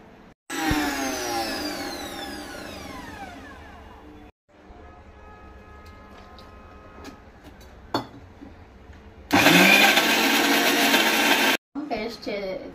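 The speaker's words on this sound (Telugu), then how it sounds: "చాలా దాంట్లో కావాల్సిన అల్లం వెల్లుల్లిపాయ పేస్ట్ నేను రుబ్బుకుంటాను." A kitchen mixer grinds ginger and garlic into paste in loud, steady whirring bursts, spinning up near the start, pausing briefly, then roaring again at full speed before cutting off.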